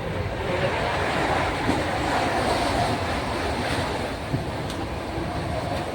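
A crowded passenger train bound for Delhi runs on, heard from inside as a steady, moderate rumble with faint rhythmic clicks and no speech.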